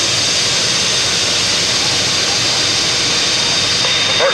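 A pulling truck or tractor at a truck and tractor pull roars down the track, producing a dense, loud, continuous engine roar with no breaks, heard from the stands.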